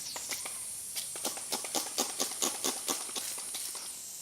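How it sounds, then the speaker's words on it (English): Air hisses out of a leaking car tire in a rapid series of sharp, sputtering bursts, close and fairly loud, like a leak spitting through a small opening. "Now it's leaking so much air that it's"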